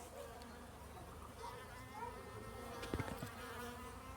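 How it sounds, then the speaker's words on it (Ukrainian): Faint buzzing of bees hovering around pear trees, soft and steady with a few brief louder passes near the end, quiet outdoor background. "Бджоли на грушках."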